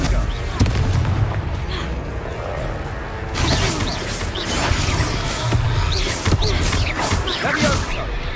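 Repeated Confringo spell explosions boom through a Hogwarts Legacy battle, with dense blasts and crashes over busy game sound effects and music, growing louder partway through.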